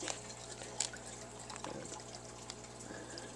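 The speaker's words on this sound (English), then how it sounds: "The water level's filling up" Water pouring steadily into a fish tank, a soft continuous trickle and splash at low level with a faint hum underneath.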